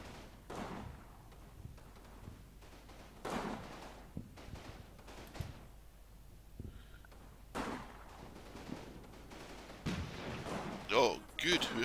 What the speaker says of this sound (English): we're putting down some suppressive fire, and we're moving lads up